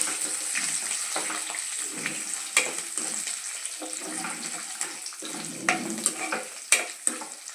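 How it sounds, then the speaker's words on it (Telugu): Cumin, curry leaves and dried red chillies sizzle in hot oil for a Telugu banana flower and toor dal curry, a steady crackling fry punctuated by clinks and stirring scrapes close by. "జీలకర్ర, కరివేపాకు, ఎండుమిర్చి వేసేసుకుందామండి."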